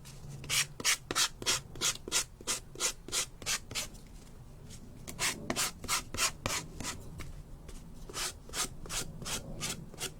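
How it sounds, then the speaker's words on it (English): Edges of a laser-cut decorative plaque being hand-sanded, a close, steady run of about twenty rhythmic back-and-forth rubbing strokes with a brief pause midway. "little bit of a sand down the edges of here"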